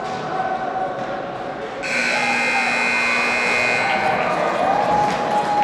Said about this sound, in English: the final buzzer will bring period number 3 to an end